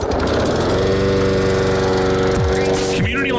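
A lawn mower engine runs in a lawn care radio advertisement, droning loud and steady the whole time with a rough buzzing tone and a brief pitch shift near the end.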